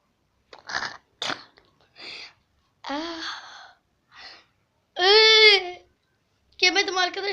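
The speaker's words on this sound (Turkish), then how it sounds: "Yemedim arkadaşlar ama ısırdım" Someone bites and squishes slime up close, giving several short, separated crunching and squelching bursts with quiet gaps between them, along with breathy vocal sounds and gasps.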